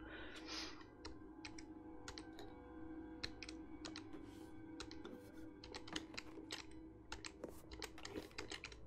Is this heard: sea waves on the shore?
no